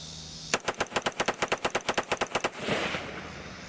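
A firearm fitted with a Fostech Echo II binary trigger fires a rapid, evenly spaced string of about fifteen sharp, loud shots over two seconds, then a fading echo and rustle.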